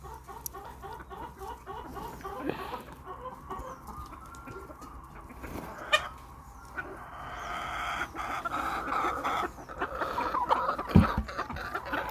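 Chickens on a farm cluck steadily while drinking water and pecking at scattered maize under hot sun, with a few sharper calls and a brief crow-like cry rising near the end over a constant low background.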